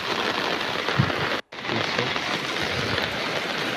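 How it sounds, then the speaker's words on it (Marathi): Heavy continuous monsoon rain in Shahapur taluka, a dense, loud, steady hiss of downpour with a brief dropout partway through and no voices. "काल रात्रीपासून तालुक्यामध्ये पावसाची ही संततधार सुरू आहे"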